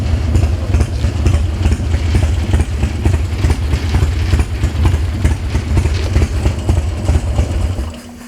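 A 2003 Harley-Davidson FXD Dyna Super Glide idles in neutral, its engine giving a steady, loud, low rumbling thump with a fast regular pulse that continues the whole time before easing slightly at the end.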